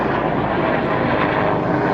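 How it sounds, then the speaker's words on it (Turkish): A private helicopter flies overhead, a dense steady roar of engine and rotor noise filling the whole stretch at constant loudness with no talk over it. "Şu an bir helikopterimize bakacağız herhalde bir özel helikopterdi"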